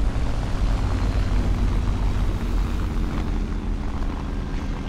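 A French airplane engine in the video game War Thunder drones steadily and loudly throughout, a thick low rumble with a constant tone and no speech.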